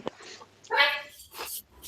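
A dog gives a few short, high whimpers and yips indoors, close and fairly quiet, with brief gaps between the sounds.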